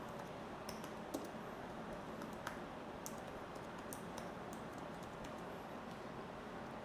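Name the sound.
typing text on a computer keyboard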